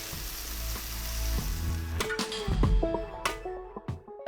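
Lentil fritters made with almond flour fry in hot oil with a close, crackling sizzle, then brisk metallic clatter and tapping from a utensil against the pan toward the end. No voices.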